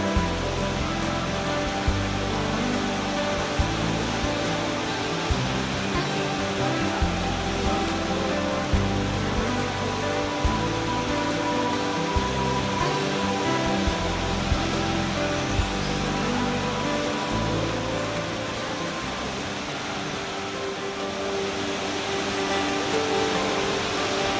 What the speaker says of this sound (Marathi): 100 फुटांपेक्षा जास्त उंचीवरनं या धबधब्याचं पाणी कोसळतं